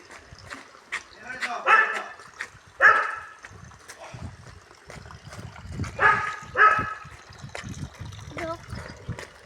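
A voice imitates a dog barking with several short, voiced bark-like calls in two pairs, mixed with nearby talk and light background noise.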